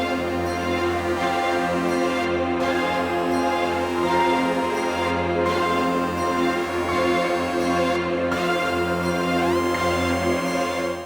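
An FL Studio beat melody mixed with EQ and reverb plays as a full, dense and continuous sound, sustained synth layers over a steady low end, with short breaks between phrases and no talking.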